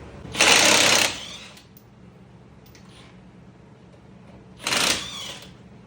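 A cordless impact wrench fires two short loud bursts while removing lug nuts on a 2007 Mercury Mariner, separated by a few seconds of quiet.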